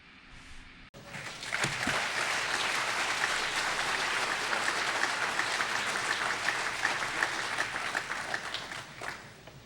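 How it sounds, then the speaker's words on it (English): After a brief quiet moment, a large audience at an AA speaker gathering at the Bayouland Jamboree breaks into sustained, dense applause that holds steady for several seconds before tapering off. "I love when y'all clap."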